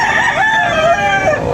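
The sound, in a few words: rooster crowing at a chicken market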